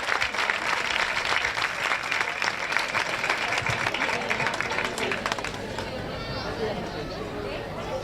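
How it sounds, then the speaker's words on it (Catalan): Loud audience applause at a summer festival proclamation in Estivella, dense clapping from a crowd that thins into scattered claps and murmuring voices toward the end. "vaig demanar un fort aplaudiment per a Judit"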